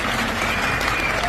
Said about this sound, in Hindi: इसलिए जोरदार तालियां बजाइए साथ।